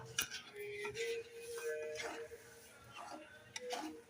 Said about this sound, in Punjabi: ਲਗਾਤਾਰ ਇਹਨੂੰ ਹਿਲਾਉਂਦੇ ਜਾਓ